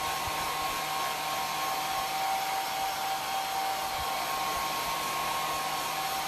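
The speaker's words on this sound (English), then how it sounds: "I got my hair dryer today" A hair dryer blowing steadily up close, a constant loud whooshing roar with a thin whine, no voices.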